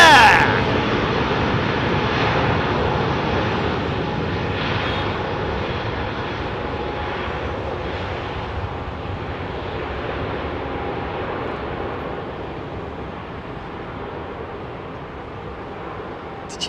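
Jet airliners departing London Heathrow at sunset: a loud, continuous roar of engines that slowly fades as the aircraft climbs away, filling the whole stretch with no pauses.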